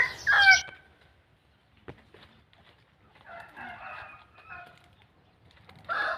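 Chickens cluck near fighting cocks, one sharp call at the start followed by quieter scattered clucks and low murmurs, with another brief call at the end; fairly faint overall.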